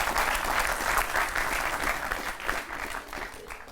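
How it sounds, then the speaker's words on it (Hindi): A live audience at a Hindi political satire poetry show claps together, a loud sustained burst of applause that slowly tapers toward the end. "थोड़ा सा आप लोग ताली बजा करके बताओ एक बार"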